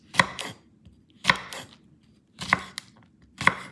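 Four crisp knife chops through okra onto a cutting board, evenly spaced about a second apart, each a sharp close thud with a short follow-through, no talk.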